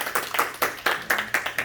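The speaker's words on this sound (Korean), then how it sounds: "우리 박수로 한번 환영하겠습니다." A small church congregation claps in scattered, uneven bursts, the applause close and lively, rising and falling over a couple of seconds.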